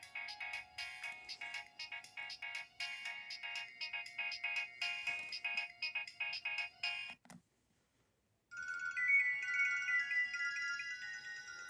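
A Nokia 3120 or 1650 phone plays a ringtone as a fast, bright run of repeated electronic notes, then falls silent for a moment before a different melodic ringtone pattern starts.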